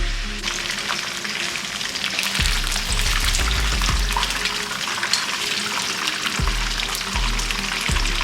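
Turkey wings frying in oil, a loud continuous bubbling sizzle with occasional low thumps, close up and without speech.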